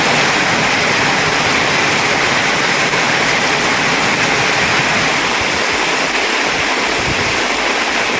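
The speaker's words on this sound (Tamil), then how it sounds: "நாகை மாவட்டத்தின் பல்வேறு பகுதிகளில் கனமழை பெய்தது." Heavy monsoon rain and floodwater pouring through streets in Nagapattinam district, Tamil Nadu, a loud, dense, continuous rushing wash that never lets up across the whole stretch.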